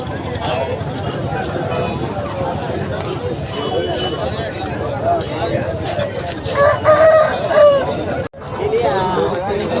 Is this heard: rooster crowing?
yes